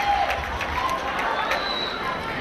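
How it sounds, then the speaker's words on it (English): A 2008 high school prom crowd fills a hall with a steady roar of applause and cheering, a dense, even wash of clapping and voices with no breaks. "Can I get a round of applause for your Miss Proviso from 2007?"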